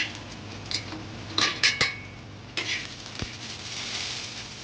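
Fried onion being scattered over a pot of home-style veg biryani, with sharp clinks of a metal spoon or utensil against the pan in a few quick clusters of taps, then softer scraping, close by and with no talking.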